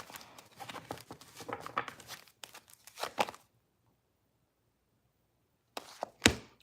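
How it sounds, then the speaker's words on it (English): Worn, old tarot cards being shuffled by hand: a few seconds of quick papery riffling and flicking, a pause of silence, then a short burst of card snaps and taps up close. "Let me do one more shuffle because these old beat up cards."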